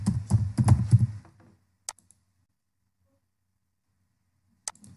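Computer keys clatter in a quick close burst of typing for about a second, followed by two isolated clicks after a quiet pause.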